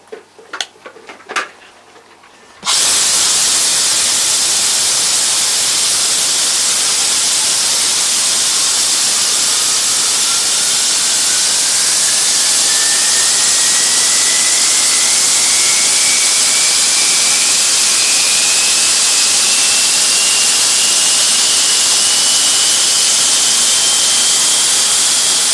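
Underground machinery at the Nobles Nob gold mine in Australia roars in like a jet engine after a few quiet knocks, a loud, unbroken, hissing blast with a faint rising whine that holds for over twenty seconds.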